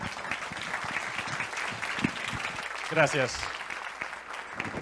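An audience at an evening event applauds to welcome a speaker, a steady wash of clapping heard from a slight distance while a voice speaks briefly over it.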